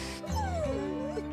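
A dog named Churchill whimpers close by in a short, rising and falling whine with a few squeaky yips.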